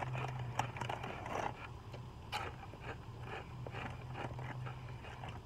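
Crunchy cinnamon-dusted 7-Eleven snack bitten and chewed close up, with several sharp crisp crunches spread through the clip over a steady low background hum.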